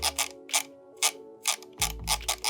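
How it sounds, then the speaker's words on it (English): Loud mechanical clicking from the updated scroll wheel of a ZOWIE C-series gaming mouse, heard as about eight sharp bursts of ratcheting ticks, close up, with no talking. "The scroll wheel is the new updated ZOWIE scroll wheel"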